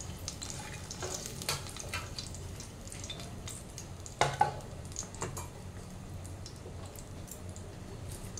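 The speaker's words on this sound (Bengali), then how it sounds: "এবার ওই একই তেলে আমি গরম মশলা ফোড়ন দিয়ে তারপর একে একে বাটা মশলাগুলো দিয়ে দেবো" Whole garam masala spices temper in hot oil left from frying fish, giving a faint, low sizzle with a couple of sharp clinks from the pan partway through.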